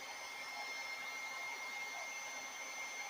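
A blow dryer set to low heat is held over freshly poured resin, giving a steady, continuous airy whir at close range that stays even throughout with no talking.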